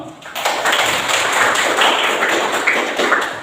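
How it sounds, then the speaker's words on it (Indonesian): A classroom of students applauds the groups' work, with dense, continuous clapping from many hands filling the room for several seconds. "Berikan aplaus dulu untuk semua."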